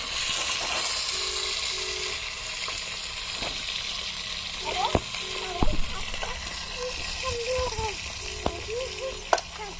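Mutton curry ingredients fry in hot oil over a wood-fired village stove, a steady low sizzle and hiss with occasional clinks and knocks, while a voice and an adult talk faintly nearby.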